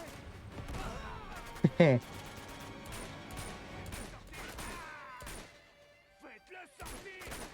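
Uncharted 2 video game combat with a grenade blast and bursts of gunfire, a few sharp cracks and thuds spread irregularly under ongoing voices talking over the game.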